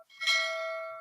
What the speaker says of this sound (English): you gotta ring the bell